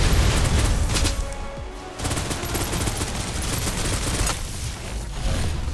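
Sustained suppressive gunfire from the video game Snowbreak: Containment Zone, a dense, loud rattle of continuous shots with a brief gap near the two-second mark before the barrage resumes.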